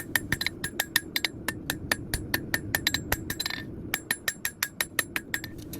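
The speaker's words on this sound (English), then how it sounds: "I like to use the sharp corners of my hammer to dig into the steel" A hand hammer strikes steel while forging a small hunting knife, a quick run of sharp ringing blows, close and loud, with a brief pause before another steady series of strikes.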